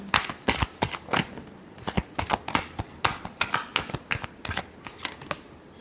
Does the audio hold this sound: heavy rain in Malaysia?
no